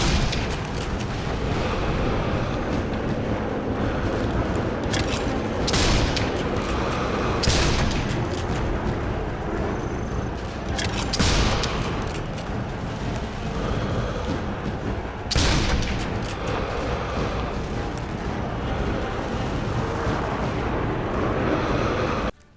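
In Sniper Elite 5, gunfire and explosions tear through aircraft on a desert airstrip: a constant clatter of shots under several heavy, sharp blasts spaced a few seconds apart, loud and close.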